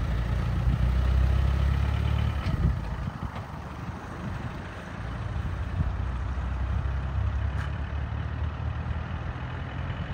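A Land Rover Defender 90 engine rumbles low and steady as it pulls away, loudest at the start and then holding a dense, even drone for about ten seconds, with no voices.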